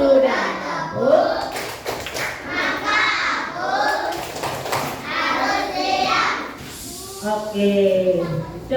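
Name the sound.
children clapping in a classroom clapping game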